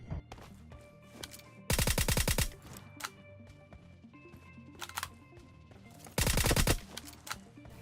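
Gunfire in the PUBG Mobile battle game: two loud bursts of rapid automatic fire stand out, with scattered quieter single shots and clicks between them over steady game background tones.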